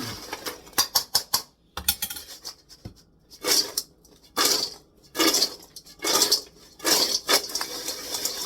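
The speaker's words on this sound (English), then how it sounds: "Mix them up one more time. Make sure they're coated real good." Seasoned pretzels tossed in a bowl with ranch seasoning pack and oil, giving repeated bursts of dry rattling and clattering against the bowl, fairly close and loud, in irregular rhythmic shakes with short pauses between.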